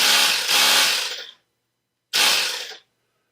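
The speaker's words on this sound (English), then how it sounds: "since the compressor makes a lot of noise" An air compressor runs loudly to blow-dry a counterflow chiller, a harsh hissing roar that cuts off, falls silent, then starts again in a shorter second burst.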